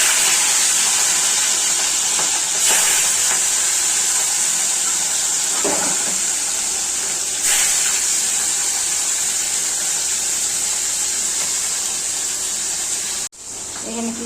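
Katla fish pieces coated in turmeric and salt fry lightly in hot oil in a wok, a loud, steady close-up hiss that runs unbroken before cutting off sharply near the end.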